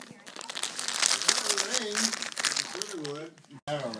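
Wrapping paper crinkles and rustles loudly and continuously as Christmas presents are opened, with people talking over it.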